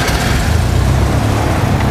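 Cessna 172 piston aircraft engine cranking and catching, a steady loud low rumble with propeller drone running continuously and close.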